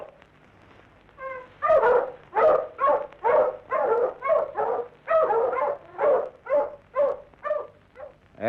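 Dogs bark loudly and repeatedly outdoors, a rapid run of about fifteen harsh close barks after a few whimpering yips, with short gaps between them and no talking.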